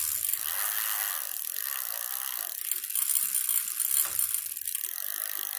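Dense mechanical clicking and ratcheting from an e-bike's freewheel and chain as gears are shifted across the cassette, a steady bright rattling close by with some uneven bursts, no talking.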